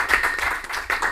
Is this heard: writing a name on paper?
no